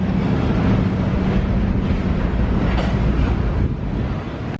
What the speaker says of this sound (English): there was 3 of them leading this unit coal train out of Pittsburgh